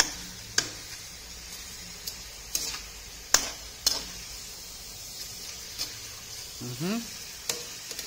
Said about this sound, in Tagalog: iniiwasan natin matapon, kaya dahan-dahan lang muna yung paghalo natin since maliit lang yung ating kawali